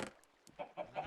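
A chicken clucks near a campfire, giving three short, quiet clucks in quick succession during a brief faint moment.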